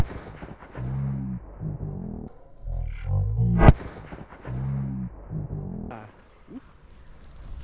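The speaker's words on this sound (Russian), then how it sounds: "Первая петардочка у нас, открываем сезон." A green Cobra firecracker goes off outdoors with one sharp, loud bang, followed by fizzing and crackling, while deep voices murmur before and after the blast.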